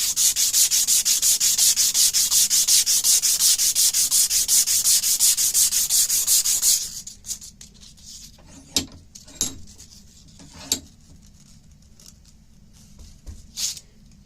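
A cloth is pulled back and forth shoe-shine style around a rifle barrel clamped in a vise, giving fast, steady rubbing strokes for about seven seconds, then stopping and leaving scattered handling clicks and knocks.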